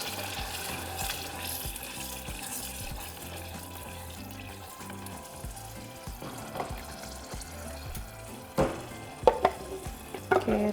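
Sautéed garlic and Cento crushed tomatoes are stirred in a pan, with a steady low sizzle and soft scraping under faint kitchen noise, then a few sharper spoon knocks near the end.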